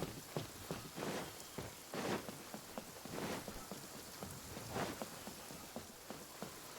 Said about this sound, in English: Fucking raining, bro.